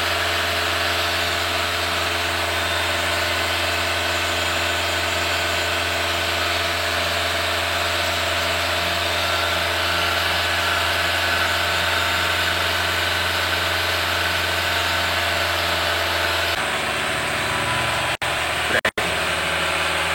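A Nissan engine idles steadily during a 4-in-1 engine cleaning tune-up in a workshop, a constant mid-low hum that shifts and drops slightly near the end, with a couple of sharp clicks.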